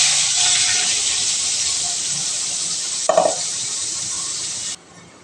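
Cumin masala poured into a hot pan with oil while cooking a quick chicken gravy. A loud, steady sizzle hisses throughout, a brief stirring clatter breaks in near the middle, and the sizzle cuts off abruptly near the end.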